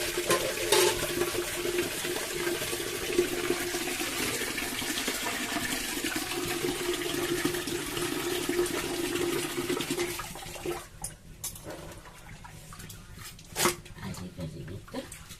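Water runs steadily from a kitchen tap while rice is washed, a continuous close splashing rush that stops partway, followed by scattered clinks and soft handling sounds.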